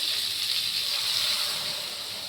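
Hot water pours into a cooking pot, a steady hissing gush that holds evenly and fades slightly at the end, with no voices.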